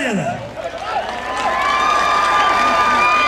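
Crowd cheering and applauding after a dramatic play at a local event: loud, sustained mix of voices, shouts and clapping, with a high whistle-like tone rising over the noise in the second half.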